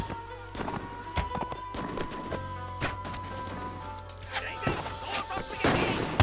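Horse hooves clip-clopping in the medieval combat game Mount & Blade: Warband, irregular thuds mixed with sharp combat impacts and game noise, moderately faint throughout.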